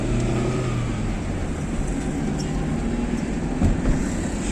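Steady road traffic on Murree Road during Eid ul-Fitr holidays in Pakistan, a continuous low rumble of car engines with occasional revving passing nearby, no clear voices.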